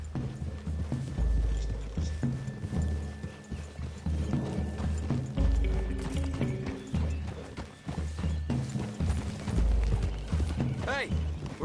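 Horses trot through trees in the video game Red Dead Redemption 2, with steady clip-clop hoofbeats, a whinny near the end and creaking tack, while voices talk over them.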